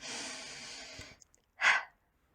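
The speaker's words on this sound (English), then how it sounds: "I'm going to take a breath and slow down." A person takes a breath, a long soft exhale followed after a brief pause by a short, sharp nasal intake, close and clear with no talk.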